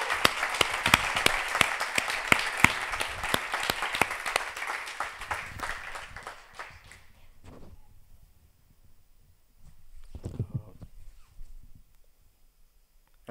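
Enthusiastic audience applause and clapping after a presentation at a cymatics challenge event. Dense, loud clapping runs for about six seconds, fades, and is followed by a brief smaller burst of claps and a few scattered ones near the end.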